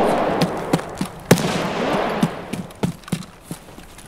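Scattered gunshots in Escape from Tarkov, a string of sharp single reports, some muffled and some closer, over a noisy background hiss.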